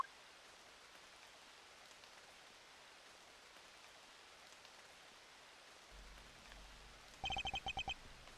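Soft, steady rain falls in the Ace Attorney Investigations: Miles Edgeworth video game, a faint, even hiss that ends with a quick burst of short electronic blips.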